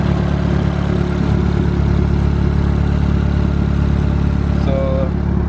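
Turbocharged Honda Civic engine running hard and steady at high revs, a loud, dense drone that holds throughout with a brief tonal whine near the end.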